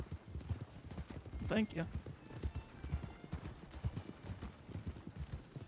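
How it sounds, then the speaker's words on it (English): Horse hooves clip-clop steadily in a Western roleplay video game set in 1899, with a short whinny partway through, while a voice speaks briefly. "That's a lovely horse, Miss."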